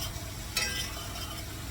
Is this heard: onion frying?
yes